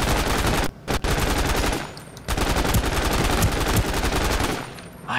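Rapid automatic gunfire from a weapon in the video game Ring of Elysium, loud sustained bursts with heavy recoil, one short pause near the start and a brief lull midway before firing resumes.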